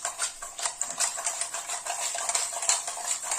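Something is being mixed in a container, giving a faint, uneven run of scraping and swishing strokes at close range.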